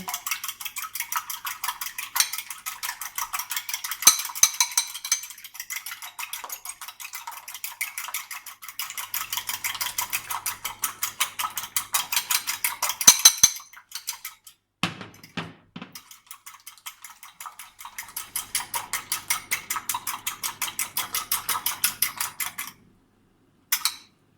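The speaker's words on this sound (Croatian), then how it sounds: "Možete i mučkalicom, možete i viljuškom ovako da umutite." Rapid metal whisk or fork beating against a bowl while mixing ingredients for a white soup with dumplings, a steady fast clinking rhythm with brief pauses, close and fairly quiet, no talking.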